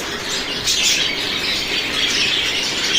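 Finches bathe together in a water dish in hot weather, producing a continuous close flurry of splashing and fluttering wings with occasional chirps, fairly loud and without pause.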